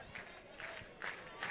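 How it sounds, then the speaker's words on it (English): A jam-packed crowd fills a softball stadium at an Alabama versus Auburn game, a steady roar of massed voices rising and falling in brief swells. "Jam-packed crowd here at the Rhoads house,"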